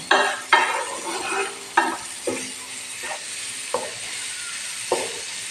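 Spinach biryani masala frying in a pan under a constant sizzle, broken by about seven brisk stirring scrapes of a spoon at a steady, unhurried rhythm, close and clear.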